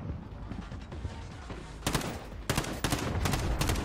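Gunfire in the video game Warzone, rapid bursts of shots, loud and close, growing denser toward the end over a constant background of battle noise.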